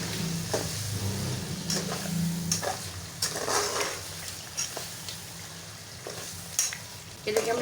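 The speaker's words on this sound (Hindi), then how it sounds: "अब हम इसमें अपने मसाले डालेंगे और इसको तकरीबन 1 मिनट भून लेंगे" Potatoes fry with spices in a pan, a loud crackling sizzle broken by repeated scraping stirs of a spoon against the pan, with intermittent clatter.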